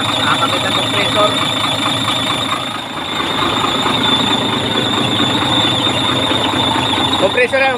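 A repaired air conditioning compressor on a Shacman truck runs continuously alongside engine noise, giving a steady mechanical whir with a faint high squeal. Voices talk over it throughout.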